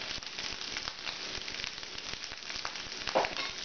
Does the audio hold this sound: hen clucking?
no